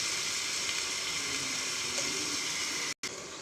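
Mango pieces for a quick spicy pickle fry in a pan, a steady, close, even hiss running without pause and cutting off abruptly near the end.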